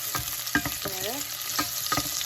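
Chopped onions fry in a pan as they are stirred, a constant hiss broken by a few quick scraping strokes and a brief squeak, near and without speech.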